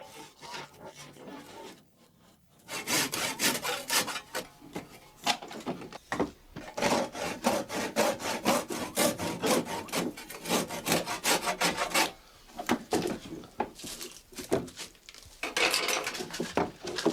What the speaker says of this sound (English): Bernhard Nellessen saws off the protruding fork ends with a handsaw